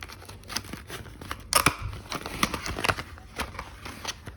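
A fosfomycin medicine sachet is cut and torn open with a series of close, crisp snips and crinkling rustles of the packet, some sharper bursts standing out, with no speech.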